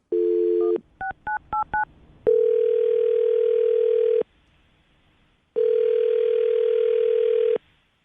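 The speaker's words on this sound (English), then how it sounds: "I'm going to dial the phone number right now." A landline telephone starts with a steady dial tone, then a quick run of keypad dialing beeps, followed by two long ringback tones with a silent pause between them, all clear and close.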